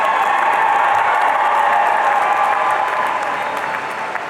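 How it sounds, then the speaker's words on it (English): Loud, sustained applause from a large commencement crowd greets Master of Public Administration graduates at a university ceremony, a dense even roar of clapping that tapers slightly toward the end. "Let's give a round of applause to the Master of Public Administration graduates"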